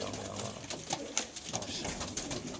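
Pigeons kept as tumbler or play birds cooing close by, a repeated soft throaty coo in a steady rhythm with faint rustling in between, no talk.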